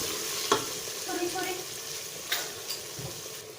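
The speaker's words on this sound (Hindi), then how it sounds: "देखिए, हमें भुनाई करते हुए इसकी 10 मिनट हो चुके हैं।" Food being roasted for a sehri recipe sizzles in a pan while a utensil stirs it, with a few scraping knocks against the pan over the steady frying.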